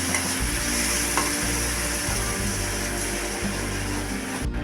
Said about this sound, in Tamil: இப்போ நம்ம அரைச்சி வச்சுருக்கிற விழுதை இதில் சேர்த்துக்கலாம். இதை இப்போ மிக்ஸ் பண்ணி விட்டு